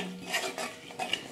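Coriander and cumin powder are stirred and fried in a pan, with short metallic spoon scrapes and clinks against the pan over a faint sizzle. The scraping is close and comes in about three quick strokes.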